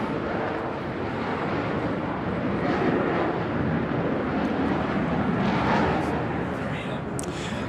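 Eurofighter Typhoon jet aircraft passing overhead at a speed festival display, a steady loud broadband roar of jet engines that holds for several seconds with no clear rise or fade.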